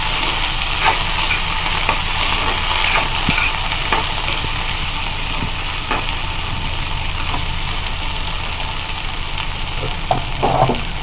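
Sliced okra frying in hot oil gives a steady, even sizzle throughout, with occasional small crackles and spoon clicks, close and moderately loud with no talking.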